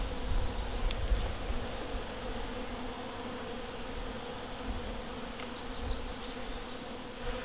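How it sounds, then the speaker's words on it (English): Honey bees swarm an open sugar feeding bucket, a dense, steady buzzing drone that fills the whole stretch with no voices over it. "they're in the bucket already before I even get it in the pot"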